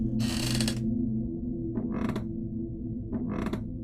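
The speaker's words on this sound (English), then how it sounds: "The door creaked open, slow and heavy." A slow, heavy door creaks open in one long drawn-out groan, followed by two shorter creaks, all over a steady low hum.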